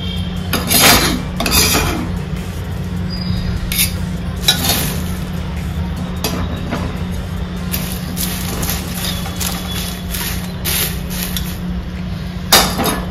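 Spices, curry leaves, cashews, peanuts, roasted chana dal and raisins being mixed into crispy corn chivda in a kadhai, with steady scraping and clinking of a spoon against the pan and a low continuous hum underneath, close and moderately loud.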